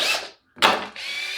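A cheap cordless hammer drill driver with a 10mm chuck whirs in short close bursts, stopping briefly and spinning up again to a steady high whine.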